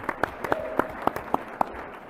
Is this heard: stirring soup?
no